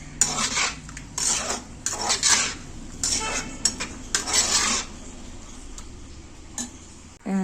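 A spoon scraping and clinking against a pan while a dish is stirred during cooking, in repeated bursts of metallic scraping with short pauses between them.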